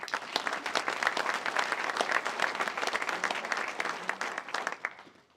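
Audience applause at a county address, a dense run of individual claps that holds steady for several seconds before tapering off.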